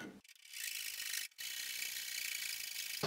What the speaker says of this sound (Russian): Сейчас сделаем небольшие надпилы и будем аккуратно работать